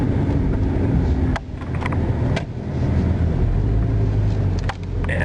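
A Hyundai car's engine runs steadily with a low rumble as it is driven into a repair shop on a cold morning, with a few brief clunks over the continuous drone.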